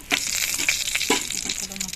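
Ghee sizzles and crackles in a kadai as a bay leaf fries, with sharp spitting pops over a soft hiss, close and brief.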